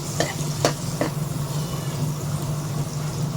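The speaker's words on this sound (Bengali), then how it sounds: "কাজু কিশমিশটা প্রথমে ভেজে নিচ্ছি দেখুন" Cashews and raisins fry in homemade ghee in a kadai on a gas stove, giving a steady close sizzle with a few sharp scrapes of stirring near the start.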